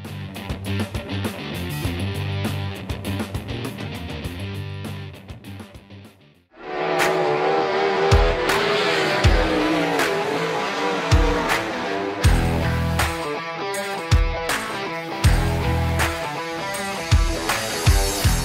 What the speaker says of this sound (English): We're going to throw these 410 wing sprint cars around